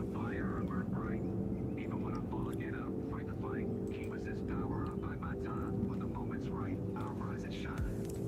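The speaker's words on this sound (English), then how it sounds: "It sounds like juice, but it's actually a jet." A jet airplane passes overhead as a low, steady roar in the background, heard through an open window beneath continuous close talk.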